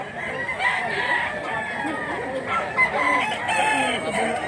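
A rooster crows amid a busy, noisy place where roosters are being sold, with clucking fowl and people talking and haggling nearby.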